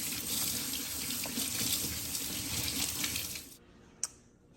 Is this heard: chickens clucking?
no